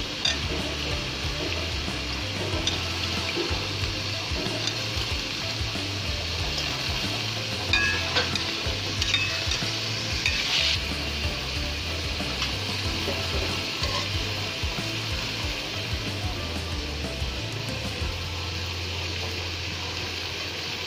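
Potatoes go into a pan of tomatoes and dried fish for a shutki dish. A steady close-up sizzle of frying runs throughout, with stirring and scraping against the pan and occasional clinks of cookware.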